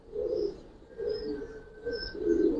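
A khaki giribaz pigeon coos in soft, rounded phrases, three murmuring bursts close to the microphone in a quiet loft.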